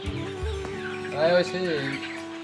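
Chickens on a poultry farm cluck and murmur close by, with a short louder call partway through, mixed with people talking.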